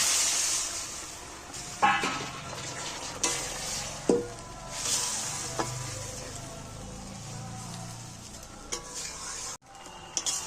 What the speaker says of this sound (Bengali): আমি এবার মশলা ধোয়া জলটা সাইড দিয়ে দিয়ে দিচ্ছি